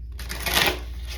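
A quick riffle of tarot cards being shuffled, a single soft papery burst swelling and fading in about a second, close and quiet with no talking.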